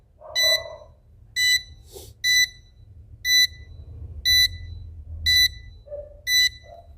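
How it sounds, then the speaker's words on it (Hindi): A BM730 volt-amp-watt meter sounds its over/low voltage alarm: seven loud, evenly spaced electronic beep bursts, roughly one per second, over a low background hum. "इसकी वोल्टेज को पहले ओवर वोल्टेज और लो वोल्टेज पे सेट किया हुआ था, इस वजह से ये बीप कर रहा है।"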